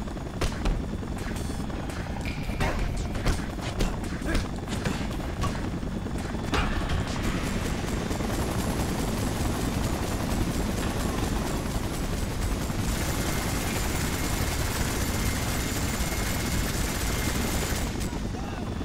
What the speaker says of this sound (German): Soll ich einfach den Hubschrauber verfolgen oder was?